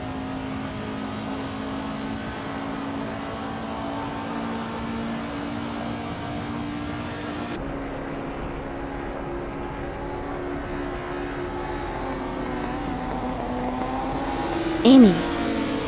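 Race cars lap Suzuka Retro in a racing video game, a steady engine drone and whine holding throughout with one brief sharp blip near the end.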